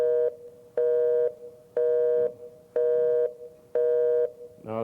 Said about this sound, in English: No, that's the busy signal.